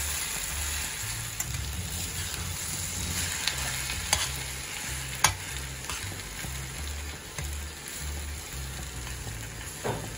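Onions or other ingredients for mango rice are sautéed and stirred in a pot, giving a steady soft sizzle with occasional scraping clinks of a spoon against the metal.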